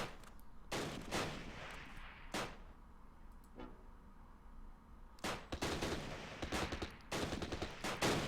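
Several bursts of small-arms fire, mostly pistol shots, in the World War II strategy game Close Combat: Last Stand Arnhem, with clusters of sharp cracks spread across the stretch over a steady low battle background.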